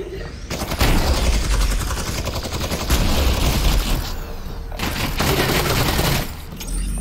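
Rapid bursts of gunfire and automatic weapon fire in the VR shooter Half-Life: Alyx come in several loud volleys, with brief lulls between them.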